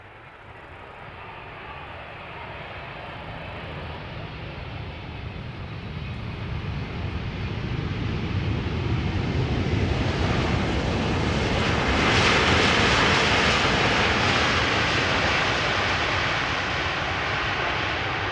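A South African Airways Boeing 777-200ER, about 17 years old and in standard livery, arrives at Amsterdam Schiphol, its jet engine roar growing steadily louder to a broad peak near the end of the pass, then easing slightly, with no talk.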